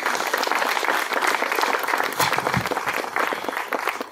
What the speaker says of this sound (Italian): del nostro artista locale Rocco Iannelli, a cui facciamo un applauso e ringraziamo